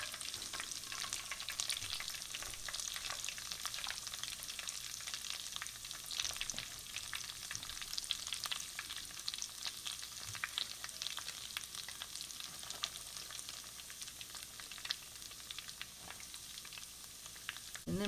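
Keto fried chicken frying in a batch of hot oil, a constant dense crackling sizzle with scattered sharper pops, steady and close throughout, no talking.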